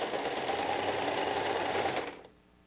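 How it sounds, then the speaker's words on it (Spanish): A sewing machine runs a continuous stitch around the waistband of a skirt, a steady close whirring buzz that stops abruptly near the end, with no voices. "Le damos la vuelta y le vamos a pasar una costura todo alrededor"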